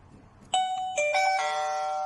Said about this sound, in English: Press the doorbell to wake it up.